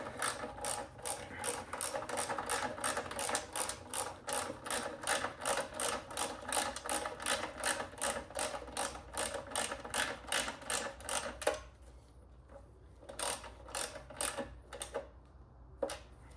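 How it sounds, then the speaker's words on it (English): Rapid ratchet wrench clicking while snugging valve body bolts on a TH400 transmission, a steady close run of clicks that gives way to a few short bursts separated by pauses. "tighten it down and torque it to about 4 to 6 foot-pounds"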